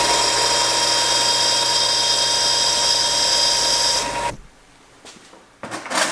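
Steady high-pitched whirring of a bench grinder sharpening tungsten welding electrodes, loud and continuous for several seconds before it cuts off abruptly, leaving near silence with a couple of faint clunks and a brief return of noise at the end.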